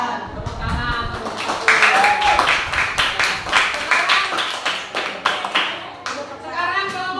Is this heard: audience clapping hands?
yes